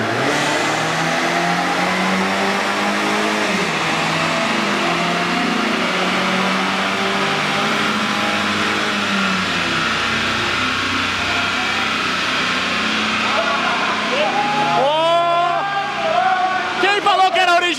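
Opel Kadett 2.0 turbo revving hard on a dynamometer at a dyno day event, a loud sustained engine roar climbing in pitch with people talking and shouting over it throughout.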